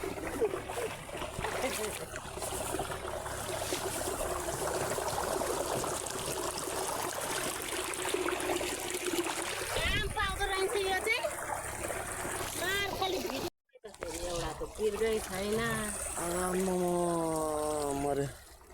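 Water runs from a tap in a steady, hissing rush that continues throughout, with people talking over it and a brief cut near the end.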